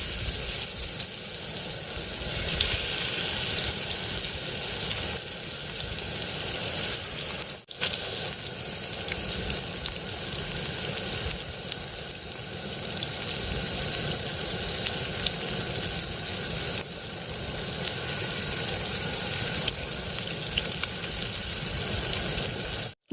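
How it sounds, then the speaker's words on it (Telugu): Fish pieces frying in hot oil give a steady, dense sizzle that holds constant and close throughout, with no voices over it. "నూనె వేడెక్కిన తర్వాత మనం రెడీ చేసి పెట్టుకున్న పీసులు అయితే వేసుకోవాలి."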